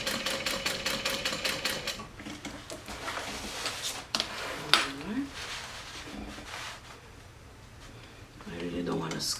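A sewing machine stitches over a rivet on a bag handle in quick rapid bursts, then stops and starts with clicks and handling noises while a voice talks over it.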